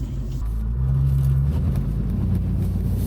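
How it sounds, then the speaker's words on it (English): Inside a moving 1969 Ford Mustang, a low engine rumble fills the cabin, with a steady tonal whine from the tires or rear end appearing briefly under the road noise. "There's some kind of whine going on. I don't know if it's tire noise or rear end."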